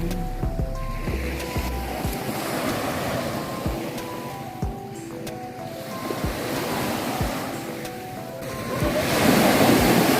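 Sea waves wash and surge continuously beside a ferry crossing from Bohol to Cebu, with wind buffeting the microphone and a rumbling swell that grows louder near the end.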